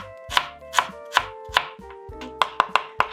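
A knife slicing through food on a cutting board for a teriyaki beef bowl, about ten crisp, sharp chops falling in a fairly even rhythm and quickening near the end, close and distinct with no talking.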